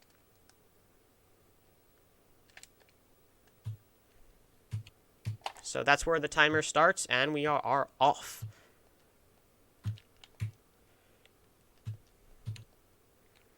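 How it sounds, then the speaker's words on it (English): Mechanical keyboard keys click in sparse, separate taps across a quiet stretch, with one person talking briefly in the middle. "You guys will probably be hearing some clicky sounds on my end because of my mechanical keyboard."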